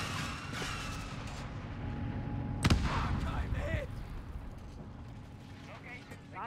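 Artillery overwatch barrage in a real-time strategy war game: a dense, rumbling wash of distant shell impacts and gunfire, broken by one sharp, loud blast near the middle, with a steady battle din running throughout.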